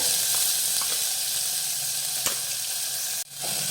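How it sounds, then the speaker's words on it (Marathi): Chopped green chili and tomato sizzle steadily while being sautéed for a sattvic vegetarian thali, a continuous close frying hiss with a few faint stirring clicks and a brief dip near the end. "आणि आता हे परतून घेऊया टोमॅटो परतून घेतला"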